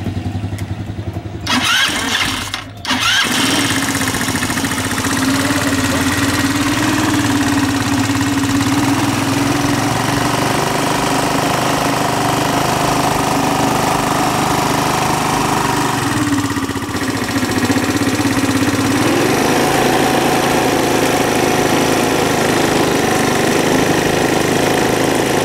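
An Italika WS motorcycle that is running poorly and smoking heavily after a bad adjustment cranks over briefly, catches, and settles into a loud, steady, close idle that carries on with a slight surge partway through.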